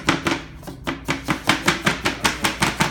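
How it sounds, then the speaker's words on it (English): A hand karate-chops fondant down onto a buttercream-covered cake, making a steady series of about a dozen dull, evenly spaced thuds up close with no talking. "So I give it a karate chop."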